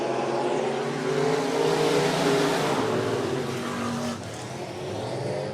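Race cars roar around the 105 Speedway oval under green-flag racing, a loud, sustained blend of several engines droning and revving, with one swelling past before the sound eases slightly near the end.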